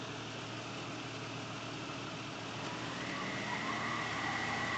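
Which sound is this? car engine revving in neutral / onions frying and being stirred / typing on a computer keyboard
car engine revving in neutral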